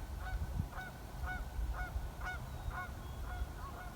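Geese by a river give a regular run of nasal honks, about two per second, at moderate distance over faint outdoor background noise.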